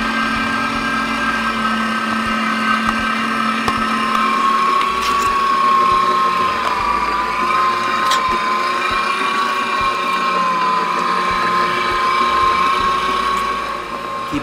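A motorised sausage stuffer forcing ground venison mixed with pieces of fat into casings, giving a loud, steady droning hum with a whiny tone that runs unbroken for the whole stretch, with no talking.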